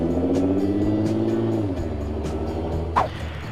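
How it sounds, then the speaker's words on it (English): A 2009 Lamborghini Gallardo LP560-4 with straight pipe exhaust, close and loud, its engine note revving then settling into a deep, raspy idle rumble, with a brief sharp blip near the end. "The car sounds amazing."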